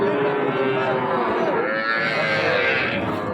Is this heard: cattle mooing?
yes